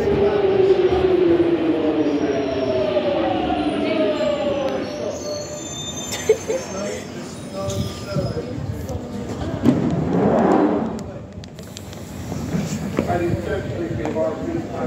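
A London Underground Jubilee Line train between Bond Street and Green Park rumbles loudly, with rising motor whine, squealing wheels and rattling cars, while a voice speaks over the din.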